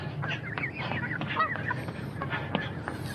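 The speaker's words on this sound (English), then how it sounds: "geese are doing some practice flying" Geese honk repeatedly overhead as they fly past, their calls rising and falling over the steady background noise of an outdoor run near an airport.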